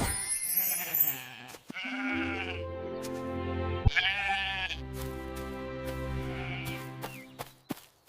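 Sheep bleat repeatedly at dusk, several long wavering calls from close by, overlapping one another with short pauses between, and no voices heard.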